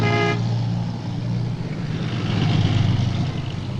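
Many trucks drive past with a loud horn blast at the start, followed by a dense rumble of engines and traffic that stays continuous and close.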